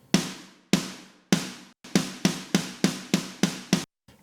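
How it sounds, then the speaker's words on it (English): A single snare drum sample from a thrash metal mix hits about ten times in a steady, slightly quickening pattern, each crack sharp and bright with a short decay, heard alone with no voices. "So we've got one snare sample that is playing through the entire song."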